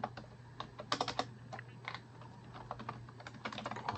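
Computer keyboard typing heard up close as quick, uneven bursts of key clicks with short pauses between them, and nobody talks.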